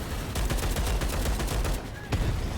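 Rapid pistol gunfire in the shooter game Starship Troopers Extermination, a dense burst of loud shots fired in quick succession with a brief pause near the end.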